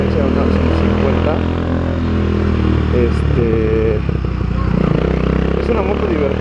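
A Vento Nitrox 250cc motorcycle rides through city streets, its engine droning steadily with shifting revs, close and fairly loud, while a rider talks over it throughout.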